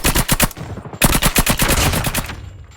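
Rapid nail gun fire in Call of Duty Mobile, loud and close, two dense bursts of evenly spaced sharp shots separated by a brief pause, the second trailing off.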